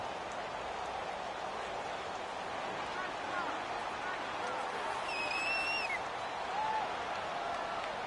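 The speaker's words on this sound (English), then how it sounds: "And the home crowd applauding." Home crowd applauding at an NFL football game between the Giants and Patriots, a steady broad wash of clapping and cheering filling the stadium, with a few whistles rising above it.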